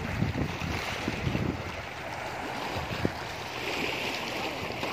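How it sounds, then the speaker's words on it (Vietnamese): A shrimp trawling boat comes in at sea, heard as a steady broad wash of water and wind noise with faint low engine rumble, no talk. "Giờ này có ghe cào, nó cào vô rồi"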